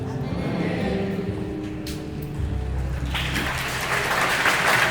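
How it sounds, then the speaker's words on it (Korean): A church congregation at a youth summer retreat evening service claps to glorify God, the applause swelling from a softer start into a loud, dense wash in the second half. "우리 하나님께 영광의 박수를 드립시다."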